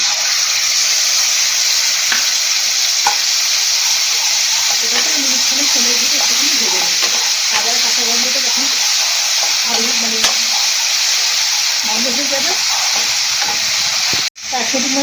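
Ginger garlic paste sizzling loudly in hot oil with whole spices for paneer korma, a dense continuous frying hiss with stirring scrapes, heard close with a voice talking over parts of it.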